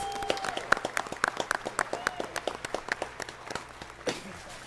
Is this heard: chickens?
no